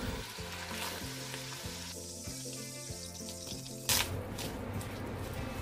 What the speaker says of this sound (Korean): 고기 먼저 살짝 익힌 다음 빼주시고요.